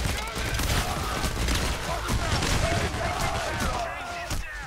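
Dense gunfire from the PAYDAY The Heist heist shooter, a continuous loud clatter of shots with game noise throughout and no pauses.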